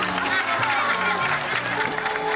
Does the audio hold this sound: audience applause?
yes